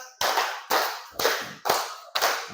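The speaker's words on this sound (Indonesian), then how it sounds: "Coba tepuk 5." Group clapping a five-beat pattern in a class, five strong unison claps of many hands at a steady moderate pace, each ringing briefly before the next, with no talk over them.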